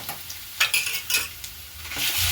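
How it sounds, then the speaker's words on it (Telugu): Ginger-garlic paste fries in a pan for ghee rice, with a steady sizzle and sharp stirring scrapes that come in several bursts, louder toward the end, with no talking. "బాగా ఫ్రై ఇప్పుడు అల్లం వెల్లుల్లి పేస్ట్ వేగిపోయింది"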